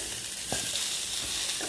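Onions sautéing in a pan for a Tamil urad dal chutney, a continuous close sizzle broken by a few soft spatula stirs, with no talking.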